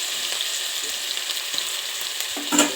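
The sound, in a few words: ginger, onion and garlic frying in hot mustard oil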